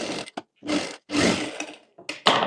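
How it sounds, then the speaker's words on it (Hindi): A sewing machine stitching a baby ruffled jumpsuit runs in short, loud whirring bursts separated by brief silences, close to the listener. "अब यहाँ पर भी हम इसी तरह से सिलाई कर लेंगे।"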